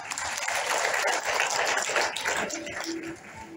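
A church congregation claps in a sanctuary, a dense wash of applause that holds steady then thins and tapers near the end, with a voice briefly audible beneath it.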